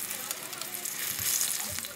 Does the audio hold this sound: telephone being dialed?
no